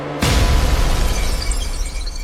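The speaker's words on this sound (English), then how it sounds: "Shatter the first mirror." A sudden loud crash of a mirror shattering bursts in and keeps roaring and scattering for about two seconds.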